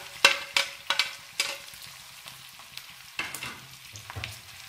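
Onion, tomato, green chillies and ginger frying in a pan for chicken karahi: a soft continuous sizzle broken by several sharp clinks and scrapes of a utensil, with no talking.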